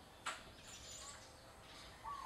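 A wild zebra dove calls outside a home in Cebu, Philippines, giving a few faint, brief chirps against quiet outdoor background, with no voices.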